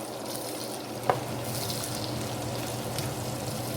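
Sausage browns in a pan with a tablespoon of butter, a soft, steady sizzle close by with one small clink of a utensil, no voices.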